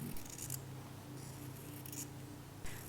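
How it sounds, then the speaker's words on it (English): Scissors trimming excess sponge fabric for a scrunchie, a few short quiet snipping strokes close by against faint background hiss. "Trim the sponge fabric a little. Cut the excess fabric."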